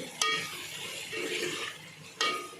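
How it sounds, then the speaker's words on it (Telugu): Boiled cluster beans stirred and fried in a pan, a soft continuous sizzle with a sharp utensil scrape against the pan near the start and again near the end. "గోరుచిక్కుడుని తర్వాత దీన్ని మంచిగా కలుపుకోవాలి."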